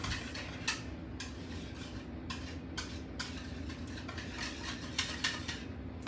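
Pudding being whisked in a small Mickey-themed Disney bowl, giving rapid repeated clinks and scrapes of the whisk against the bowl in steady bursts, moderately close and fairly quiet.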